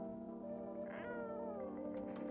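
A cat in a video game meows faintly over a steady tonal background hum, giving one drawn-out, wavering call near the middle of the clip.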